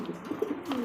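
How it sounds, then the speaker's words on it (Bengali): A pair of black fancy pigeons with feathered legs, a male and a female, coo softly in low, repeated murmurs that stay close and steady with no talking over them. "সামনেটা নর কবুতর, বামেরটা মাদি কবুতর।"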